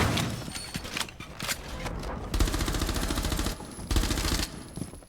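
Gunfire in the Rainbow Six Mobile video game, played with mouse and keyboard through a converter, comes as loud rapid automatic bursts, several sustained runs with short gaps and a few single shots.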